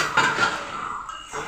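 A metal lid is lifted off a cooking pot during a home vegetarian papaya dish with grated coconut, giving a short clattering scrape near the start followed by quieter kitchen sounds.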